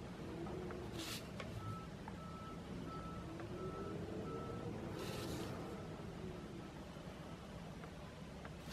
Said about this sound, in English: Sorry about the noise. It's trash day.